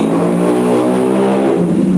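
Motorbike engine revving in the Free Fire battle royale game, a steady buzzing drone held close and loud throughout with slight pitch shifts and no talk.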